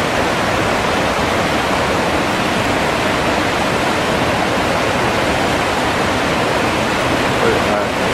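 The lower falls on Gold Creek, a creek waterfall in British Columbia, pour with a loud, constant broadband rush of water that fills the whole stretch without a break.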